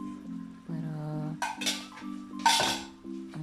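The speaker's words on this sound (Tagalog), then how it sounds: "Tapos, pagka takpan po natin itong niluluto natin." A metal lid settles onto a cooking pot of pansit canton with vegetables, giving a few clinks and scrapes that ring with a sustained metallic tone, close and fairly clear.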